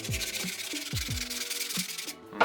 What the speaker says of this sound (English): I always sand down around the edges of my grip afterwards